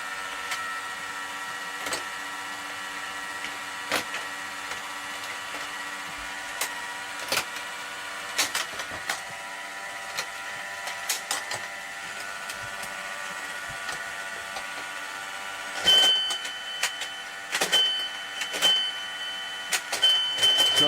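An Atomic pinball machine powered on after repair, giving a steady electrical hum and whir with scattered clicks and relay clacks, a brighter burst of clicking and tones near the end, no talking.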